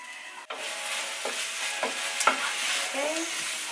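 Vegetables, including radish, being stir-fried in a pan for a vegan rice-cake soup, with a steady sizzle and occasional scraping stirs of a utensil, heard close and alone without talk.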